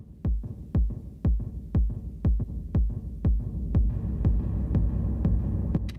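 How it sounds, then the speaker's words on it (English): Kick drum on an Elektron Tonverk sampler: a steady pulse of deep, booming kicks roughly every half second, with a faint hum and higher percussive ticks joining in the second half, no talking. "let's get rid of this kick drum really quick and go back to another sound."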